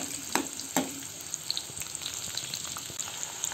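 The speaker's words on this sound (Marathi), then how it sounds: "आता आपण कांदा तळून घेऊ" Onions fry in a pan with a steady sizzle and crackle, punctuated by a few sharp stirring knocks early on, close and moderately loud.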